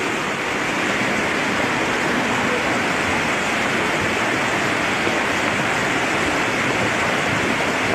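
The flooded Bhatte stream in Chame, Manang, swollen after days of continuous rain, rushes in a loud, steady, close roar of turbulent water with no pauses.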